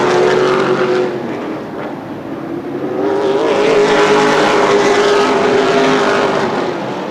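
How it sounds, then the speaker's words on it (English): Race cars in a late-race CRA All Stars Tour event on the Anderson Speedway oval, engines roaring loud and continuous as they lap, the pitch rising and falling as the cars pass. "3 laps to go now for Dorr"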